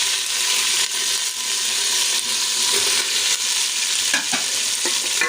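Chicken browning with ginger and garlic in a pot gives off a steady close sizzle, with scraping and clinking as a spoon stirs it at intervals, and no one talking.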